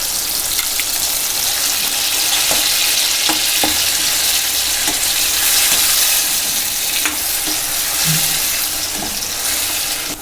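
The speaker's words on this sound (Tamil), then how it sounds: "நம்ம இந்த அரைச்ச வெங்காயம் இதை அதில் போட்டு நல்லா வதக்கணும்" Ground onion sautéing in a pan with softened tomato for a Tamil fish curry, giving a steady broadband sizzle with scattered light clicks of a spoon, loud and continuous with no talking.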